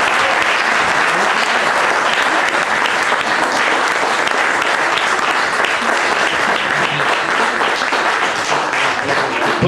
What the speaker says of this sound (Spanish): Y yo quiero que igual le den un aplauso a él.